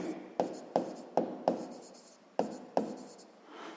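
Pen on paper during a sixth-grade maths exercise, heard as a series of short, distinct scratching strokes in an irregular rhythm, close and fairly quiet with no other sounds.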